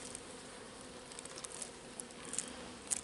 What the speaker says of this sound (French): on voit bien les abeilles.